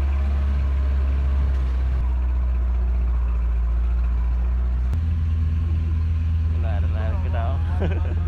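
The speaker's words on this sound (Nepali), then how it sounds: "हामी चाहिँ भाले गाडीमा दौडिँदैछ" A vehicle climbs steep road toward Devchuli hill, its engine a loud, steady low drone with a gear shift partway through, while people talk over it.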